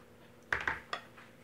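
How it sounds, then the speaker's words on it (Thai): Knife cutting a santol fruit into small pieces in a home kitchen for a santol-in-syrup dessert, giving three quick, close cutting taps with no talk. "อันนี้ป้าก็จะหั่นนะคะ"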